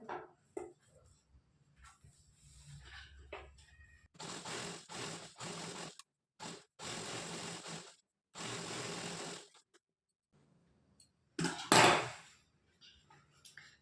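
A sewing machine stitching a blouse runs in several short bursts of rapid mechanical whirring, close and clear, separated by quiet pauses in a calm room.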